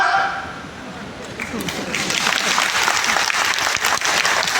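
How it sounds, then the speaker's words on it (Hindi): An audience claps at a couples' honouring ceremony, the applause building after a quieter start and then holding steady and full, with a voice faintly underneath. "ताली जोर से बजाओ।"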